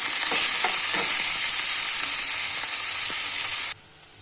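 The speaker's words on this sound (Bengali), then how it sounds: "পেঁয়াজ কুচি দেওয়ার পরে আমি আবারও নাড়িয়ে নেব" Chopped onion stir-frying with chilli, garlic and ginger for cabbage Manchurian, a loud bright hiss of frying with soft stirring knocks that cuts off abruptly near the end.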